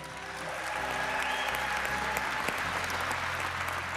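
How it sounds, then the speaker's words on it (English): Church congregation cheering and applauding a baptism during a service, a steady, dense wash of clapping and cheers that holds loud and continuous throughout. "Come on, let's cheer for him."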